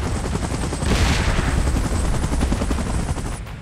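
A helicopter in the Godzilla vs Kong versus Mechagodzilla video game thrums with a fast, steady rotor chop, loud and close, with a rising whoosh near the middle and no talking.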